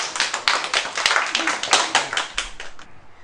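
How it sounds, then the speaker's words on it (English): A small group claps hands steadily for about three seconds after a toast at a how-to demonstration day, a close, lively patter of overlapping claps that stops abruptly. "give her a round of applause"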